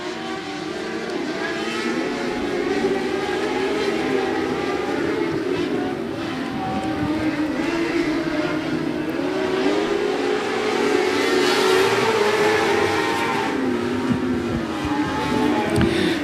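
Race cars at a speedway roaring past in a continuous loud wash of engine noise, pitch rising and falling as they circle, with an announcer's voice faintly under the din.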